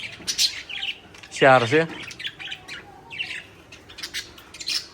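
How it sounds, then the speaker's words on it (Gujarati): Small pet parrots give a short, loud squawk and scattered chirps in an outdoor setting, with a person speaking briefly nearby. "તમે અત્યારે અહીંયા જોઈ રહ્યા છો નાના પોપટ"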